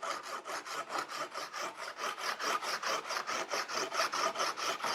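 A hand saw flush-trims scrap wood with long, even strokes, a close rhythmic rasping back and forth about four times per second, with no talking.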